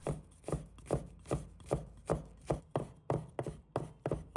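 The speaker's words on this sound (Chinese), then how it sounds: "准备几个大蒜，把它拍碎， 再切成末。" Garlic cloves are smashed flat, then minced with a kitchen knife on a board. About ten close, crisp chopping strikes fall in a steady rhythm, roughly two per second, with no voices.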